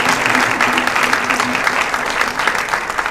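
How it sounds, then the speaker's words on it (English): A round of applause fills a hall at a football sports awards ceremony, steady dense clapping from a large audience that holds evenly throughout. "I think they deserve a big, big, big round of applause."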